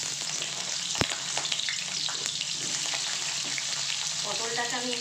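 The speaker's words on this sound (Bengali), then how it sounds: "তেল গরম হয়ে গেছে, আমি পটলগুলো দিয়ে দেবো।" Pieces of pointed gourd (potol) drop into hot oil with a sharp splash, then a dense, steady sizzle of frying continues close by, with faint scraping near the end.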